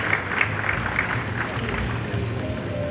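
An audience applauds at an official convention signing during a ministerial meeting on water management for sustainable agriculture. The applause is a dense, continuous patter of moderate loudness, with a low murmur of voices beneath it.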